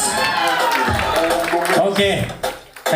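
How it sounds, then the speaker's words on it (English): A youth group at a cup-and-glass game gives a round of applause with crowd noise, cheering and scattered claps, mixed with shouting voices and talk. "Round of applause."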